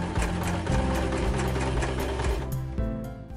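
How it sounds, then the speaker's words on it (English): A sewing machine runs steadily, stitching fabric and mesh corset panels together at the side seams, with a loud continuous mechanical hum and rapid needle chatter that eases off near the end. "it's time to sew all of the fabric and mesh panels together at the side seams."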